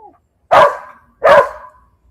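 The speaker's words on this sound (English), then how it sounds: "You can bark at it all you want." A dog named Chewy barks twice at a squirrel outdoors in the morning, two loud, close, evenly spaced woofs standing alone.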